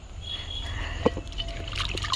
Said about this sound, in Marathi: चला 3-4 पाण्यानं मस्त स्वच्छ धुवून घेतली